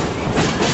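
Durango and Silverton railroad train moving along the tracks, a close, loud, steady rumble and clatter of wheels on rails heard from aboard, with no voices.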